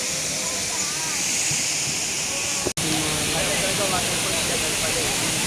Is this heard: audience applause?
no